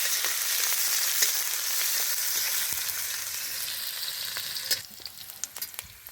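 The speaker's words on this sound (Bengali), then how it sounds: "তেলের মধ্যে পেঁয়াজ কুচি পেঁয়াজটা একটু নাড়াচাড়া করে নেব" Chopped onion frying in hot mustard oil with a bay leaf, being stirred: a steady, close sizzle fills the whole stretch, with occasional clicks of the spoon growing more distinct toward the end.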